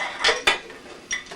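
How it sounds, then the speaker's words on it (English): Camping mess kit plates, bowls and cups clatter and clink together in a few quick, close metallic knocks, bright and sharp, with short pauses between. "So you got 2 bowls to work with, 2 plates,"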